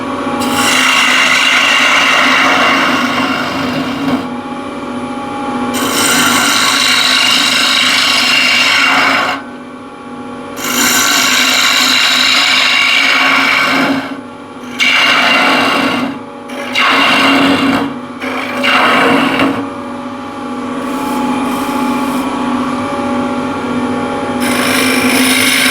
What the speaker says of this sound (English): I can hollow it out with the ball gouge.